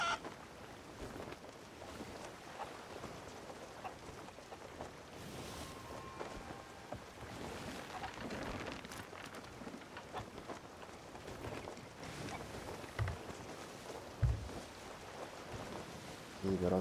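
Strong wind blows across open sea in the pirate video game Sea of Thieves, a steady broadband rush with sloshing water and creaking of a sailing ship, continuous and moderately loud with a few sharper knocks near the end.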